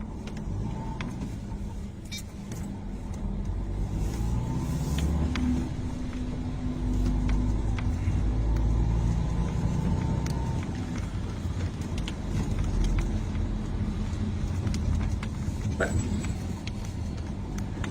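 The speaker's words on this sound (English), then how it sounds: "Why is he driving so fast?" A car driving fast along a road at night, its engine and tire roar holding steady and fairly loud throughout, swelling slightly midway, with faint faraway voices beneath.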